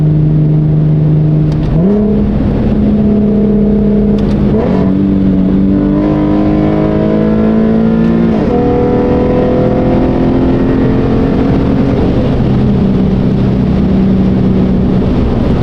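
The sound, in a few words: Corvette C8 engine accelerating through the gears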